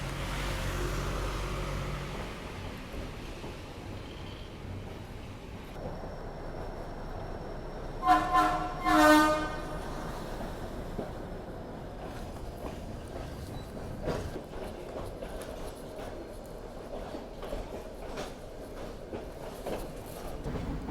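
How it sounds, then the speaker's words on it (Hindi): A Nilgiri Mountain Railway toy train pulls into Lovedale station in the hills near Ooty, with steady rolling rumble, a loud horn blast midway and clattering wheels running on throughout, no voices heard. "यहाँ पे अराइवल हो रहा है अपनी ट्रेन का लवडेल रेलवे स्टेशन पे"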